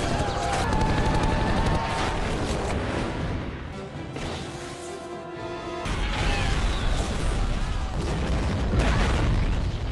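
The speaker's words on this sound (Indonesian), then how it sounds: "Akibat ledakan itu, banyak pasukan yang tewas" Dense, heavy rumbling and crashing blasts continue throughout, briefly easing in the middle before swelling again into loud explosive noise.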